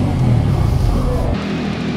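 A Bajaj Pulsar N250 motorcycle with its stock exhaust idles and revs close by, giving a loud, throaty low engine drone that drops in level partway through.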